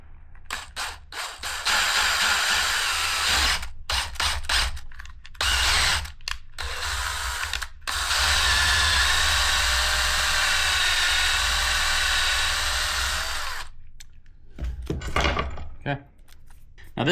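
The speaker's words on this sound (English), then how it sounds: "Try to make this drill as straight as you can." A power drill bores a hole into a trekking pole in several bursts, a sustained whirring grind between short starts and stops, with a close handling clatter at the end.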